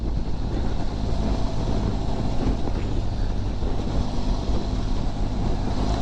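A Benelli TRK502X adventure motorcycle with its stock exhaust, heard while riding as a steady, loud engine drone under heavy wind rush, continuous and unbroken throughout.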